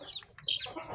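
A Burmese chicken gives a few short, close clucks in quick succession, a brief burst of bird calls with no talking.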